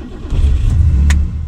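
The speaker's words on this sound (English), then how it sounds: "So without further ado, let's start the car." A 1973 BMW 3.0 CSi (E9) with a fuel-injected inline six starts up close by, a short crank catching into a loud, deep rumble.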